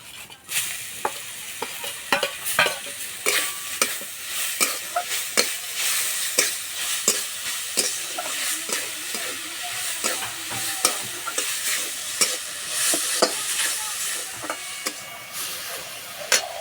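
Grated pointed gourd fries and is stirred in a pan, a constant close sizzle broken by repeated sharp scrapes and taps of a spatula on the pan.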